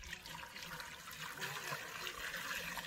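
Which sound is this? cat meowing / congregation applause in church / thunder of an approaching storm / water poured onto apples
water poured onto apples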